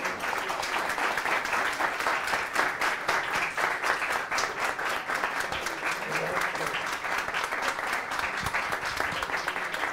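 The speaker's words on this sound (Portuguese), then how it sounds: "todo mundo que estivesse aqui desse uma salva de palmas" An audience at a Brazilian lecture on women's health gives a professor a long, sustained round of dense applause, steady and loud throughout.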